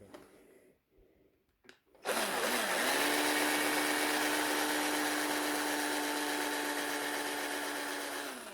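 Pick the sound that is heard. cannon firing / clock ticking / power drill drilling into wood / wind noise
power drill drilling into wood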